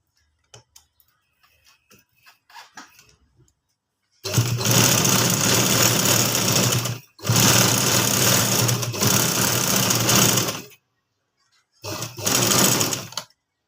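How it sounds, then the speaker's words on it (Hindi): A sewing machine stitches the corner of a sheet in three loud, steady whirring runs, separated by short pauses, after a few quiet handling sounds at the start. "इसके ऊपर हल्की सी सिलाई लगा दें।"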